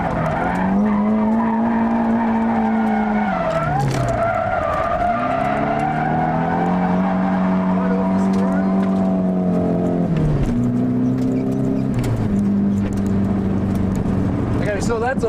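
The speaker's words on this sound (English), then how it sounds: "I used the handbrake to keep it sliding" A drifting car held in a handbrake slide, tires skidding and squealing in long sweeping wails that rise and fall with the engine, loud and continuous throughout.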